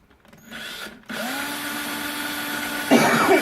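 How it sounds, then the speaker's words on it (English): A power drill whirs up after brief handling noise, holding a steady high-pitched whine, then grinds harder as the bit bites into material. "If I can get the drill to land where me..."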